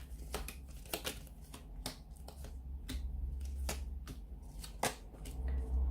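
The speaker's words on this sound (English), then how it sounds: "So we'll give the cards a shuffle." A deck of tarot cards is shuffled up close, with a series of sharp riffling snaps and flutters at irregular intervals over a quiet room, no talking.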